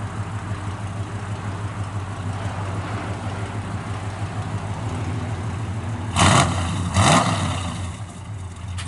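A 1967 Chevrolet El Camino idles with a steady low rumble through dual exhaust, then blips the throttle twice in quick succession, each rev rising loud and close before settling back to idle.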